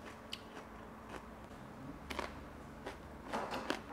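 Soft, close crunching bites into a crisp fried Ethiopian pastry stuffed with onion and peppers, a few irregular crackly crunches in a quiet room.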